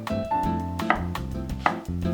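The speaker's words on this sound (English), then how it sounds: "shred the carrots" Carrots are shredded with a knife for bibimbap, a quick series of crisp chopping taps on a board, several close strokes in an uneven rhythm.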